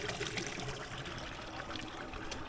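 A mountain stream trickles through fresh snow at about 950 metres altitude, a soft, steady, even wash of water with no voices.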